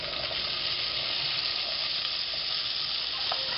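Chopped onion and tomato for a sausage pasta sauce sizzle steadily in a hot pan, a loud, dense, continuous frying hiss close up with faint stirring scrapes and no voices.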